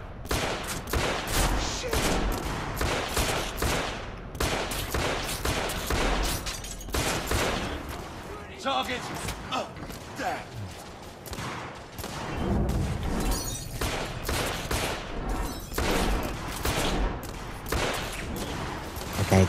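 Gunfire from the video game The Order 1886: repeated loud shots and bursts in rapid clusters, with crashing impacts and brief lulls between volleys, no talk.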